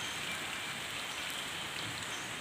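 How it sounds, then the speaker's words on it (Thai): Rain pours steadily in the first downpour of the year, a constant broadband hiss of drops hitting surfaces with no pauses and no speech. "ในการที่ ฝนตกนะครับ"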